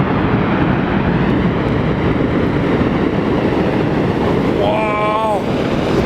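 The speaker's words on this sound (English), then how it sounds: "a piece of the glacier actually broke off and" A piece of glacier breaks off and falls into the water in Iceland, heard from a tour boat as a loud, continuous roaring rumble, with a brief voice exclaiming near the end.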